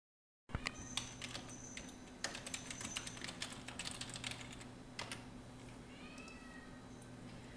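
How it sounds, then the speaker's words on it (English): Quiet clicking of computer keys in irregular bursts, close by, with a cat meowing faintly near the end. "I just finished typing my list"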